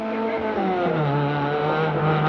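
Vauxhall Astra GTE rally car on a winter rally stage, engine loud and close with a steady rising-and-falling drone as it drives past, no voices over it.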